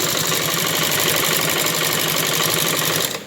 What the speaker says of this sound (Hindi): अब इसे हमें सिलाई लगाते हुए दूसरे पैर को तक इस सिलाई को ख़त्म कर देंगे